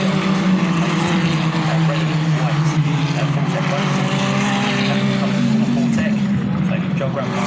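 Race cars at a circuit event heading into the pit lane late in the session, a continuous loud engine drone with shifting pitch, heard under steady commentary.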